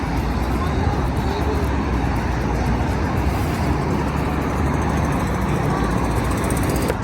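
Highway traffic at night in Kuwait forms a loud, steady, dense roar of passing vehicles throughout, with a voice talking beneath it.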